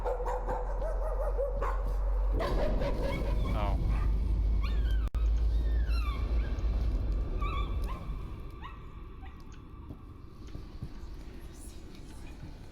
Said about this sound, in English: Puppy! I love dogs!